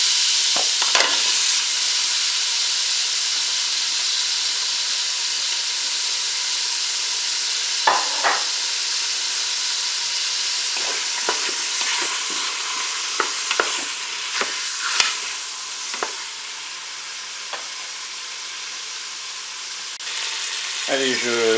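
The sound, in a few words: pork roast and onions browning in butter in a Cookeo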